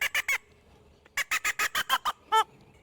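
Reed squirrel game call blown in sharp, clucking bursts: three quick chirps, a pause, then a rapid run of about seven barks ending in a longer wavering squall, close and loud.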